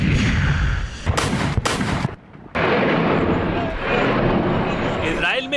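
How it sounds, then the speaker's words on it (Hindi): Rockets fired from Gaza explode over Israel, heavy booming blasts and rumbling bursts in quick succession, loud and close, with a sharp gap of near silence in the middle. "इसराइल में गाजा की तरफ से आज फिर दागे गए रॉकेट।"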